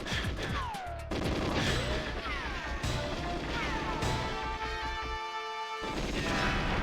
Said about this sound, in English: Were they shooting me through that window that was directly in front of me?